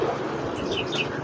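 Pigeons at a bird seller's roadside stall in Brebes, Indonesia, coo and chirp briefly over a steady wash of outdoor background noise.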